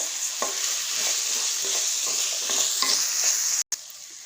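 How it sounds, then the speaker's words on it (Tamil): Finely chopped tomatoes sauté in a pan for mushroom and pea kurma under a steady frying sizzle, with a spoon scraping and stirring at irregular intervals. Near the end there is a brief cut to silence, and no one speaks. "இப்போ தக்காளி நல்லா வதங்குற அளவுக்கு வதக்கி விட்டுறலாம்."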